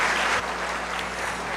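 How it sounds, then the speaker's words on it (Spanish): Strong applause at the close of a conference talk on surrogacy, a dense round of clapping that eases slightly after the first moments, over a low hum. "Yo pediría un último aplauso fuerte"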